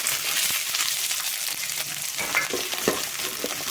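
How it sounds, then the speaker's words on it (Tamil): Curry leaves and small shallots crackle and sizzle in hot oil after mustard seeds have popped, a loud, close frying hiss broken by sharp spatters and a few stirring scrapes. "இப்போ நம்ம கருவேப்பிலை போட்டுக்கலாம் வெங்காயம் போட்டுக்கலாம் சின்ன வெங்காயம்"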